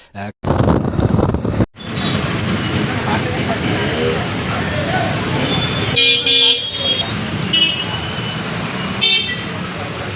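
A vehicle driven through rain, its engine and road noise forming a loud continuous rumble with wind buffeting and a couple of horn toots, voices talking over it.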